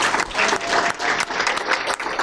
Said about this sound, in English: Can we give an applause here for our marvelous